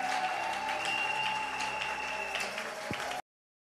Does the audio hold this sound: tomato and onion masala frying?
no